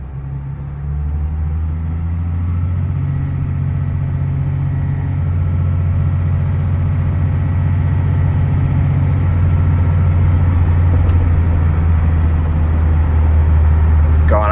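Dodge Cummins turbodiesel truck engine running steadily, a deep continuous low rumble that holds for the whole stretch, close and fairly loud, with no talk over it.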